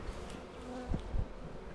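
Honey bees buzzing around an open hive during a colony inspection, a steady soft drone with a few louder close passes and faint thumps.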